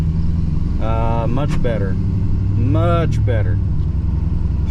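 A 2015 Ford F250 with the 6.7 Powerstroke diesel and 6R140 transmission drives along, its deep engine drone steady beneath someone talking.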